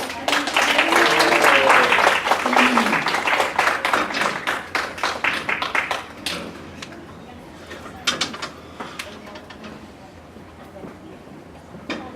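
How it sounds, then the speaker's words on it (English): Audience applause at a student leadership academy winter workshop, dense and loud clapping for about six seconds, then thinning into scattered claps, chatter and crowd murmur. "Give them another round of applause."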